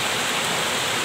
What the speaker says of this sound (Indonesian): Hati-hati karena arusnya cukup besar ya ke Sungai Cimandiri ini.